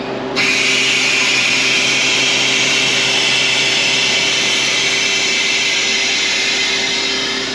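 Loud, steady hiss of air rushing in as a freeze dryer's valve opens to release the vacuum after a batch of raw burger patties, starting abruptly and holding at an even roar with a faint hum underneath.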